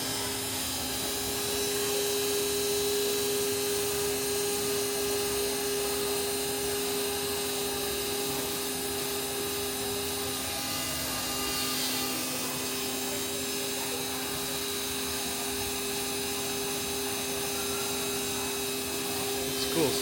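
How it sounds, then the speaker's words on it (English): A small engraving grinder cuts letters into a pen at a hand-engraving counter as the operator traces a gold stencil letter, giving a steady, close high-pitched whine that runs unbroken for the whole stretch over faint room noise. "as she traces the gold stencil letter, the grinder does the same letter on the pen."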